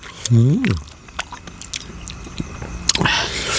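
Crunchy chewing and biting of raw beef and liver, close up, with a voice murmuring and sliding in pitch near the start and several wet crunching bites following.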